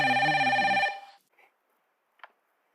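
A Playmobil toy telephone rings with a steady electronic bell tone for about a second, then cuts off, followed by a couple of faint clicks and near silence.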